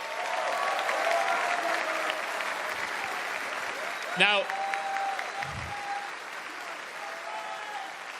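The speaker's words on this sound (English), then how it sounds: "Round of applause for FaZe Clan." Arena crowd applauding FaZe Clan at the Six Berlin Major esports semi-finals, a steady broad wash of clapping and cheering that carries through the whole stretch, with a presenter's voice briefly over it.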